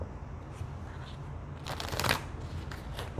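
A Priestess of Light oracle card deck is shuffled in a quick, soft riffle that rises to a brief flurry of crisp card slaps, heard close and alone.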